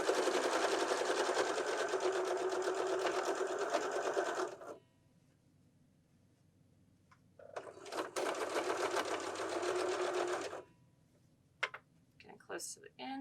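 A sewing machine stitches piping onto one side of a pillow, running loud and steady in two long bursts separated by a quiet pause, with a few light clicks near the end.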